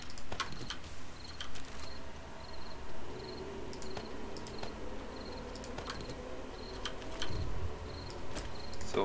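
Night-time crickets in the survival game 7 Days to Die, a steady high chirping bed with repeated short pulses, plus faint clicks resembling keyboard typing.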